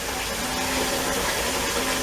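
Water poured into a pot of sweet corn kernels for pressure canning, a loud, continuous close gush that stays even from start to finish with no talking.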